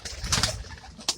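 Pigeons in a coop give soft throaty coos, several overlapping low calls close by, with a light rustle or flutter toward the end.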